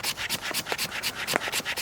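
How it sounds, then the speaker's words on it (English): A knife blade scrapes shavings off a stick of fatwood in quick, rhythmic strokes, about a dozen short rasping passes in steady succession, close and fairly loud, with no talking. "grab your knife, put your thumb like that, and just begin to scrape"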